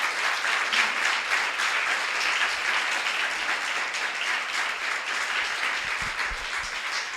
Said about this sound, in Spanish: Con un aplauso por sus vidas